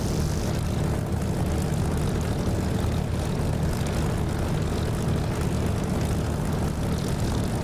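Aircraft engine drone from the DCS flight simulator game, a loud, constant propeller-style roar filling the whole stretch without pause, with no speech over it.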